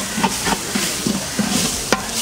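Onions sautéing in a pan over a rocket stove, a loud, steady sizzle with light stirring scrapes and a few sharper knocks, with no voices.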